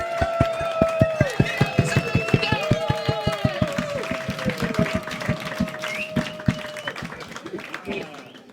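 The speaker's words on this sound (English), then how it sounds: "Stamp your feet, clap your hands, whoop," A comedy club crowd stamps and claps in a fast, driving rhythm while high whoops and cheering voices ride over the top, loud and close, slowing and thinning toward the end.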